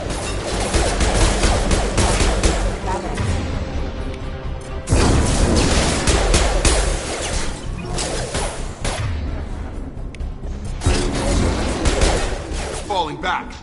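Gunfire in a Mass Effect 2 battle on a space station: dense, continuous bursts of shots and impacts across the whole stretch, loud and layered, with a few brief lulls and some voices mixed in.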